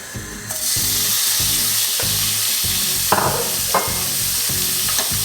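Prawns and garlic sizzling in a hot pan while being stirred for a prawn linguine, a steady loud fry with rhythmic scraping stirs and a couple of sharper spatters.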